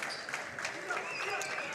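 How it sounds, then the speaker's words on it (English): Crowd noise swells at a high school boys basketball game between South Tama and Williamsburg, a steady murmur of cheers with scattered clapping filling the gym for the whole stretch. "Gets the crowd to react a little bit."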